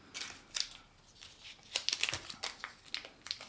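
Product packaging for a small EDC fidget slider being unwrapped by hand, with close crinkling plastic and paper rustles in short irregular bursts and a few sharp crackles.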